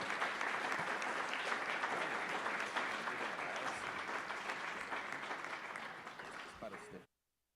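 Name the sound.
audience applause at a conference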